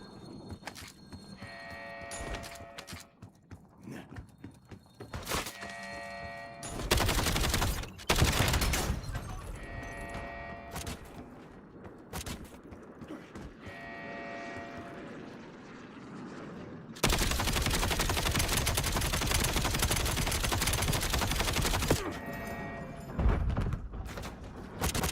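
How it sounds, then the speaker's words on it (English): Mortar strikes pound down in a multiplayer shooter, a run of sharp broadband blasts and rumbling bursts with long sustained roaring stretches of explosion noise, loud and close, with scattered gunfire between them. "That was going off with mortars before my pinpoint."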